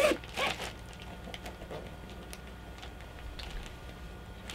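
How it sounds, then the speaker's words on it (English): A clothing zipper is pulled in a few quick rasping strokes, close and fairly quiet, with soft handling noises between pulls during a knitting and crochet podcast. "I just didn't want to catch it in the zipper"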